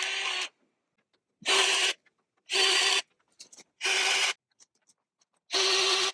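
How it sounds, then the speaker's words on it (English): A grease gun pumps grease into the fittings on a tractor loader during a 50-hour service of an RK55 tractor, heard as four or five short, harsh, rasping bursts separated by silent gaps, with faint clicks between them and no talking. "we're going to go through here and grease every single fitting"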